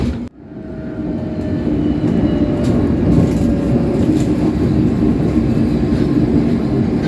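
London Underground train on the Uxbridge branch heading toward West Harrow, a loud close rumble and rattle of the moving carriage that starts with a brief drop and then holds steady with faint tonal whines.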